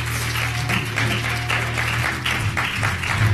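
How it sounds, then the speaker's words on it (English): A church congregation claps in praise during a Sunday Baptist service, steady continuous hand clapping with soft pulsing swells under a low sustained organ or music tone. "let's give God a hand clap of praise"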